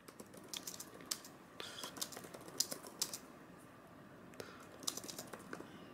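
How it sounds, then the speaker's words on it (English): Keys clatter on an Asus Zephyrus Duo 15 SE gaming laptop in quick, uneven bursts with short pauses between them, close to the microphone and fairly quiet, with no voices. "I'm gonna type in here"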